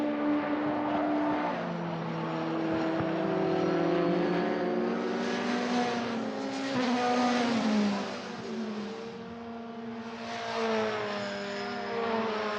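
A Euroformula Open single-seater race car screams uphill at around 239 km/h at Mugello, its high-revving engine loud and close, pitch rising and falling through gear changes with no one talking.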